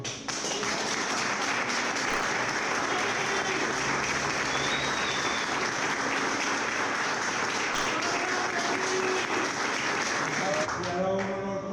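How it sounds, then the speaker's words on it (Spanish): A crowd's long, sustained applause honours futsal legend William "Panadero" Estupiñán, dense, even clapping running steadily for several seconds before fading near the end. "lo único que quiero pedir es un aplauso prolongado, largo, como lo que se mereció toda la vida."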